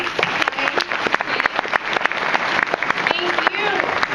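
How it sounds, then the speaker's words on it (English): An audience at a community meeting in Milwaukee applauds elected officials, an uneven burst of individual claps standing out clearly, with some voices murmuring underneath. "Thank you, and applause for them"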